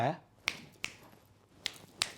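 Four sharp finger snaps spaced unevenly across a couple of seconds, crisp and close in a quiet room, with a brief voice at the very start.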